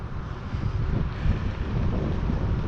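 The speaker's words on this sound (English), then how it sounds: "Bit windy today, so I'm shouting." Strong wind buffets the microphone outdoors on a bike ride, a loud, low, gusting rumble that swells and eases without pause.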